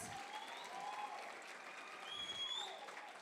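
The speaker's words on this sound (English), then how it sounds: "That's worth another round of applause" An audience at a youth leadership awards ceremony claps in a steady, even wash of applause that stays soft and distant throughout, without clear peaks or breaks.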